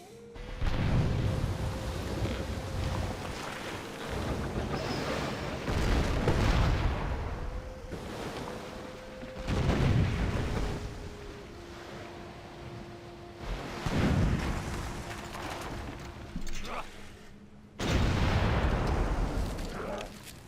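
Infantry gunfire in Civilization V, Brave New World expansion, plays as repeated loud booming volleys in several bursts over a sustained low rumble with a steady tone, and brief gaps of quiet between salvos.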